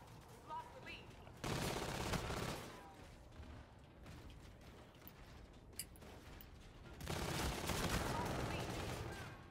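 Gunfire in a first-person shooter video game, bursts of rapid automatic fire in two loud stretches with quieter mechanical clatter between them.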